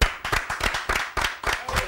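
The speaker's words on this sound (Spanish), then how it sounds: "un aplauso para Francito" A small group of people clap for a guest at a bar, giving quick, close, uneven rapid claps that continue throughout.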